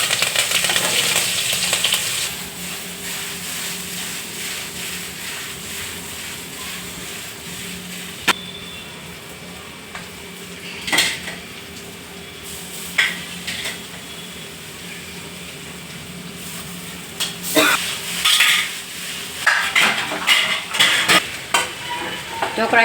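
Curry leaves, asafoetida and spices temper in hot oil for dhokla, with a loud spattering sizzle at first that settles into a quieter, even fry, then bursts of crackling and clinks of a spoon against the pan near the end.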